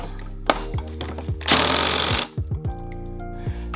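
Socket wrench tightening the clutch nut on a Derbi Start 5 scooter during a Stage6 torque control clutch and bell install, heard as close, sharp ratcheting clicks with a loud buzzing burst of power tool in the middle, no talking.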